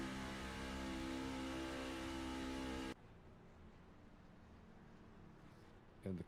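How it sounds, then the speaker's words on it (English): A race car engine at an HPRL River City 250 event revs hard and loud with the brakes and throttle locked at once, a steady roaring drone for about three seconds before cutting off to faint background noise. "he locks down the brakes and locks down the throttle at the same time"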